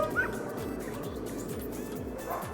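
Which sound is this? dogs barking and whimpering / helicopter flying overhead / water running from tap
dogs barking and whimpering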